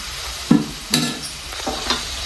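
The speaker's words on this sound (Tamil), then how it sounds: "நெக்ஸ்ட்டு வந்து இஞ்சி பூண்டு பேஸ்ட் போட்டு நல்லா வெதுக்கணும்" Ginger garlic paste frying in a pan for Andhra-style chilli chicken, with soft sizzling and a few sharp stirring scrapes of a spoon against the pan.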